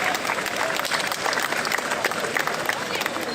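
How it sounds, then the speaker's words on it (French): Audience at an outdoor motor festival in Avignon applauding a vintage car crew in period costume, dense sustained clapping throughout, close and steady, with a voice faintly underneath. "Vous pouvez les applaudir très très fort."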